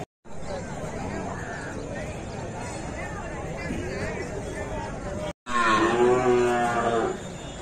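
Cattle low at the Tuesday cattle market in Matrapalli, Tirupattur district, with moos rising over a busy background of crowd babble and nearby conversation, and one loud, close call near the end.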